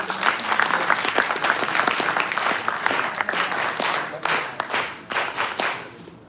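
Loud, enthusiastic applause from a crowd at a university event in India, dense clapping that carries on for several seconds before thinning out into scattered claps.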